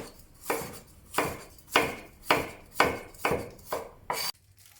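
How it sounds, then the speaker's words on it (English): Knife cutting fibrous Chinese broccoli stems into thin slices on a cutting board, eight crisp, evenly spaced chops at a steady rhythm, close and clear with no talk. "Then cut it into thin slices."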